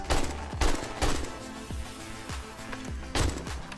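Rapid bursts of gunfire in the survival video game 7 Days to Die, several loud sharp shots in quick uneven clusters, heard alone without talk.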